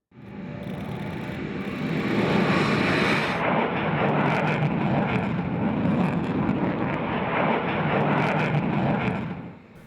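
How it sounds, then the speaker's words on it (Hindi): Indian Air Force Sukhoi Su-30 MKI fighter jet passing with a loud, steady broadband roar that swells in the first two seconds and holds, then cuts off near the end. "भारतीय वायुसेना की बेड़े में एक से बढ़कर एक अत्याधुनिक लड़ाकू विमान है और इनमें सबसे खास है सुखोई 30 MKI।"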